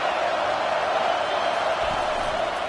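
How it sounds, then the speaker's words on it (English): Football stadium crowd roars early in the game, a steady, loud wash of voices and cheering held at an even level throughout with no individual voices standing out. "This crowd bringing the energy and noise early."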